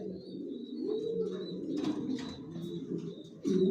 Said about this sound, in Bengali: অরিজিনাল সবজি রেসার জনসন লাইনের লং এর নটটা বাচ্চা নিয়ে হাড়িতে বসা